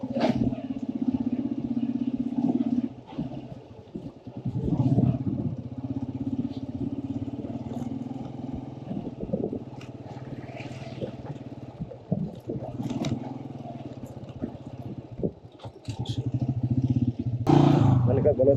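Motorcycle ridden slowly over a rough mountain road on a solo trip toward Shandur Top, its engine a low steady drone with bumps and rattles, fading and returning, with a rider talking over it.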